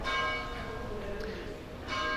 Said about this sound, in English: the chapel, the bells start to ring